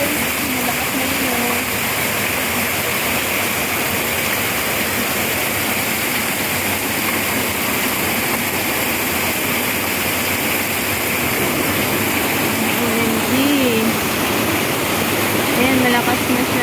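Rainwater rushes into a street drainage during a downpour, a constant loud roaring gush of water that builds slightly toward the end, with someone talking over it at times.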